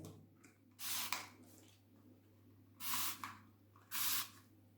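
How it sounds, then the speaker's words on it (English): Three short hissing bursts of spray onto a Cattleya orchid, each about half a second, separated by quiet pauses over a low steady hum. "I'm just gonna give it a cautionary spray"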